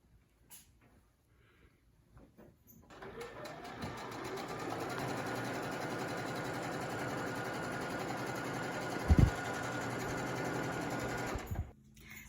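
A sewing machine stitches jelly roll quilt strips for a rail fence quilt, running in one long steady whirring hum after a few quiet bumps, fairly close, with no talk over it.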